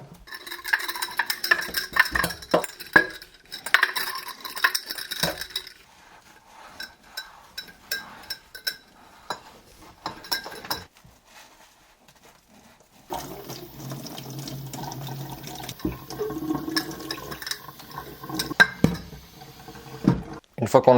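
Glass jars and their rubber seals washed at a sink: running water and clinking glass sound close, in uneven bursts, with a steadier water-flow stretch toward the end.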